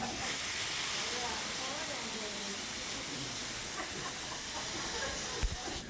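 White wine cooking off in a hot pan gives a steady, loud hiss and sizzle of steam that runs throughout, with a single knock near the end and a voice faintly talking beneath it.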